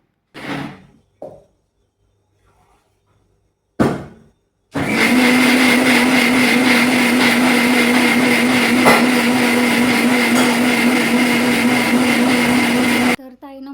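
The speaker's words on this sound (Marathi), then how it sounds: "हा मसाला भाजून कणी गार करत ठेवला होता तो पण आता मिक्सरला लावून घेऊया पाणी घालून" A mixer grinder runs loudly and steadily for several seconds, grinding roasted masala with water in a constant whirring hum, after a few short bumps and clicks at the start.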